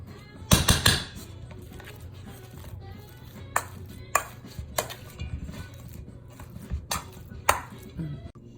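Herb butter being worked in a bowl with a utensil: irregular close knocks and scrapes against the bowl, a cluster of sharp clatters early on, then spaced taps and scraping strokes over a low room hum.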